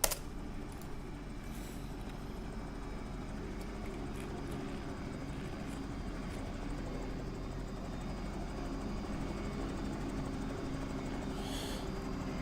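A Bell 222 helicopter in the X-Plane 11 flight simulator, on a London air ambulance flight, with its turbine engine and rotor giving a steady, loud, continuous drone and hum throughout, with no talking over it.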